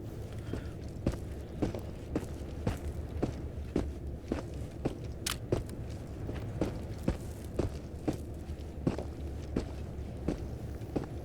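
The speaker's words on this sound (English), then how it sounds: "I hear footsteps." Steady footsteps in the video game Entering the Radius, one soft thudding step after another in an even walking rhythm, under a low background hum.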